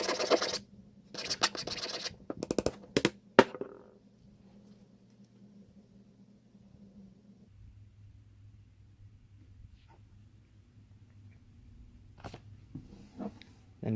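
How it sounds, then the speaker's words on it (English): A file scraping studs off a Lego R2-D2 plastic body, giving several harsh rasping strokes up close at the start, then a long quiet stretch with a faint low hum and a brief scrape near the end. "I decided I'd start by filing off the studs from the main body, and file them pretty evenly"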